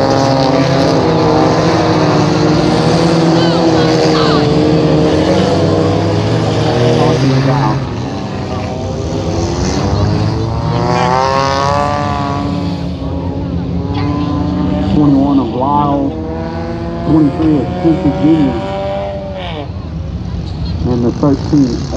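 Race cars at Thunder Valley Speedway in Glenmore, Louisiana roar loudly on a restart, their engines droning and then climbing in pitch as they accelerate together, while a voice talks over the noise.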